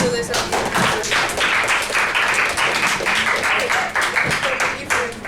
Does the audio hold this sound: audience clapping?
yes